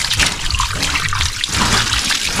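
Water sloshes and trickles steadily as raw chicken pieces are washed by hand in a basin of water, a close, continuous splashing with no talking.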